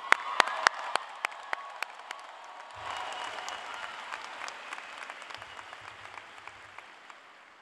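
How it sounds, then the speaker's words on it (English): Graduation crowd at a 2019 high school ceremony applauding, a steady wash of many hands clapping with sharp individual claps standing out, sustained throughout at moderate distance. "So let's give us a big round of applause."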